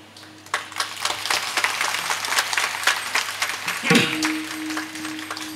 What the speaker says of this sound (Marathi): टाळी वाजू वाटली तरच, पण जर वाजवलीच तर 2 किलोमीटर आवाज गेला पाहिजे.